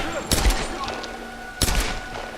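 Gunfire in the Tomb Raider video game: two sharp, loud shots roughly a second apart, each a broadband crack with a thudding low tail, set over a steady hum of game ambience.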